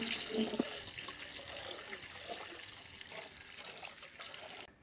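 Running water splashes steadily from a tap, with neem leaves being rinsed under the stream. The sound is faint and continuous, with no talking.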